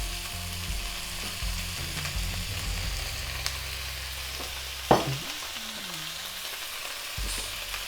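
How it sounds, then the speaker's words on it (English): Chicken with cashew nuts sizzles in a frying pan as soy sauce goes in, a steady fry with stirring scrapes and a sharp clank near the middle, fairly close and moderate in level. "now we are going to season it with soya sauce"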